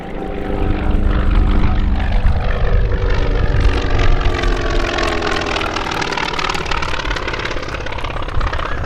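A Collings Foundation FM-2 Wildcat, a World War II fighter, sweeps past at an airshow at Quonset, Rhode Island, its loud propeller engine drone rising and shifting in pitch as it passes close by.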